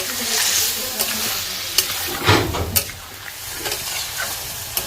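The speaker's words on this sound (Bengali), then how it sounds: "এর মধ্যে পেঁয়াজ টমেটোটাও দিয়ে দিচ্ছি। দিয়ে ভালো করে এটাকে কষাবো।" Chicken with onion and tomato sautés in a pot over a wood-fired clay stove, making a loud, close sizzle with a hissing surge midway and scattered stirring knocks and scrapes.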